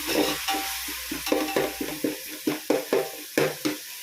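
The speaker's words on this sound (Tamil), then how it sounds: "நெடி வருது நல்லா வதக்கிக்கலாம்." Ingredients sautéing in a large pot for biryani, with a rhythmic series of scraping stirs over a low sizzle, close and moderately loud.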